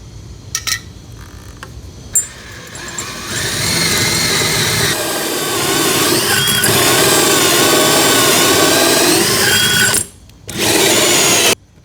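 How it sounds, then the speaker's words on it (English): A power drill with a hole saw whirs loudly and steadily for several seconds as it cuts through a wooden wall stud, stopping briefly before spinning up again. "taking my hole saw and drilling through here"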